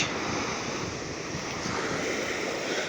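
Sea surf washes steadily onto a glittering beach where crabs scuttle, a continuous broadband roar of breaking waves with wind noise on the microphone, close and fairly loud throughout.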